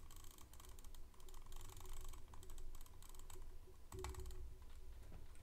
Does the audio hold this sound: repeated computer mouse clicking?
yes